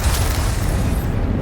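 A Bombarda spell explosion in a Harry Potter video game, a single loud, close, boomy blast with dense low rumble that fills the whole moment and then slowly thins out.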